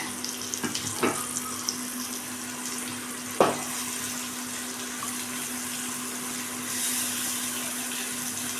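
Tap water runs in a steady stream into a sink as soya chunks are washed, with a few brief splashes and clunks early on and a constant hum beneath.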